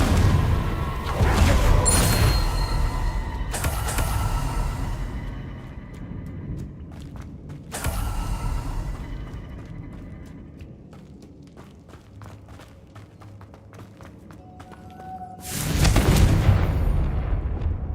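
Confringo explosive spell from Hogwarts Legacy gameplay, several heavy booming blasts spaced apart, each a loud burst with rumbling tails, between quieter stretches of crackling and scuffing movement, no talk.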